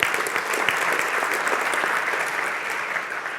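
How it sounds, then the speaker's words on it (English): A conference audience at a Florida international market presentation gives a full, continuous round of applause, many hands clapping densely and evenly throughout with no talking over it. "Let's give ourselves a round of applause"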